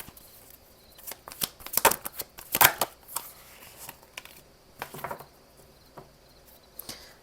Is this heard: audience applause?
no